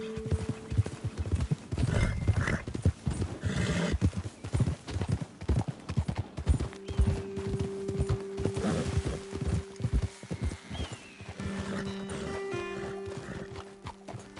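Rapid clip-clop of several horses' hooves galloping in the video game Red Dead Redemption 2, with a horse whinnying and a steady synthetic tone droning beneath.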